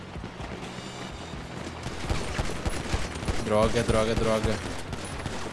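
Bursts of pistol gunfire crackle in an online shooter deathmatch in GTA 5 Online on PC, rapid shots overlapping mid-distance, with a voice exclaiming over the firing.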